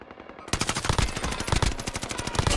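Rapid automatic gunfire in Call of Duty Warzone on the Caldera map, dense bursts of loud close shots rattling almost continuously after a quieter half-second start.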